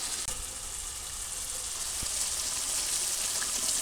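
Potatoes go into hot oil with cooked-down spice masala in a village kitchen, giving a steady loud sizzle and hiss that swells slightly, with a faint clunk near the start.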